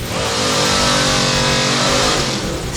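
Drag racing car engine revving hard and loud, a dense sustained roar that holds steady throughout with no talk over it.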